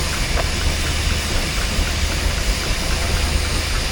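A steam traction engine runs at the Tinkers Park 60th Anniversary Steam Rally near Hadlow Down, Sussex. It gives a steady, loud hiss and a low mechanical rumble throughout, close by, with no talk.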